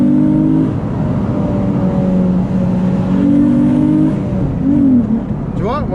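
A Nissan 350Z engine rises in pitch as it accelerates through the gears, a loud droning note close by inside the car. A voice talks over it.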